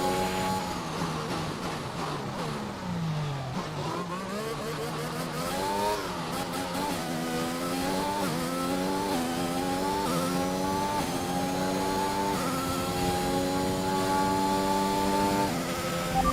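Formula 1 cars in F1 2021 on the final lap, with a loud, steady engine whine rising and falling through gear changes as the car accelerates and brakes, heard close from the car itself without any talk.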